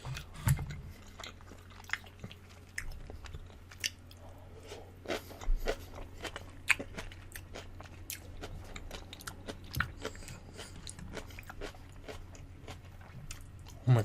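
Close, wet chewing and biting of spicy Korean noodles at a mukbang, with scattered crunchy bites and soft smacking repeating irregularly over a quiet background, no talking.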